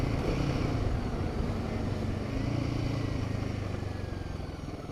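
A Royal Enfield Himalayan 450 motorcycle pulls away in second gear, its engine droning steadily and loudly with a rising pitch against wind noise.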